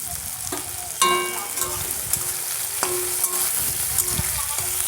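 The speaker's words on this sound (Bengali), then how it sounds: "চিংড়ি মাছগুলো বন্ধুরা লাল লাল করে ভেজে নিতে হবে।" Salted, turmeric-coated shrimp fry in a pan with a constant sizzle, broken by several sharp metallic clanks of a utensil against the pan. No one talks.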